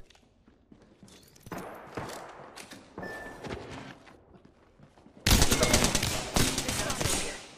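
Apex Legends gunfire, bursts of rapid shots and thuds building to a loud sustained volley toward the end.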